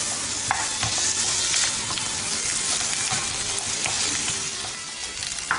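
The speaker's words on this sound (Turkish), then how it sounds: "Tane tane olması için sürekli karıştırarak kavuruyoruz." Ground beef sizzles steadily in a hot pan while being stirred constantly for a Turkish rice börek filling, with a loud, continuous frying hiss and occasional scraping.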